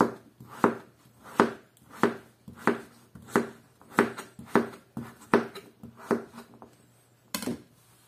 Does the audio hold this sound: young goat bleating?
no